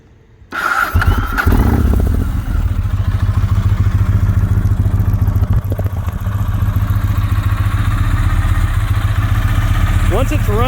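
A Yamaha MT-01 motorcycle fitted with carbon fiber frame sliders cranks and fires after a brief pause, then settles into a loud, steady, rumbling idle close by.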